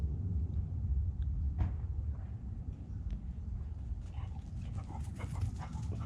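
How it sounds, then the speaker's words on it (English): A dog approaches outdoors and pants steadily over a low rumbling background, the breathing fairly close and continuous without any talk. "oh, here comes the dog"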